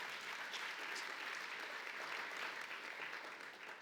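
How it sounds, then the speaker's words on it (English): An audience at a cancer research foundation anniversary celebration gives sustained applause, a dense wash of many hands clapping that holds steady and then gradually fades toward the end. "a round of applause for Emily"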